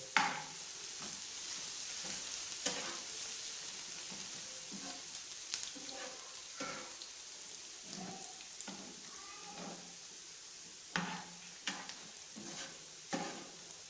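Garlic ginger paste sizzles and crackles steadily in hot ghee, with periodic scraping and stirring clatter from a utensil in the pan.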